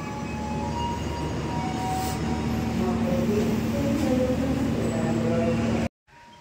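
An economy-class New Image train rumbles into Semarang Tawang station, with a steady loud rolling drone, squealing wheel tones and a faint hiss from inside the carriage, then an abrupt cut.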